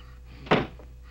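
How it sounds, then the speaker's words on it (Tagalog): A door shuts with a single solid thud close by, a short dull impact in an otherwise quiet indoor room. "Isara mo ang pinto!"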